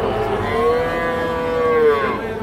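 Young bull calves at a busy livestock market low with a long, drawn-out moo, loud and close over a steady background murmur of the crowded market.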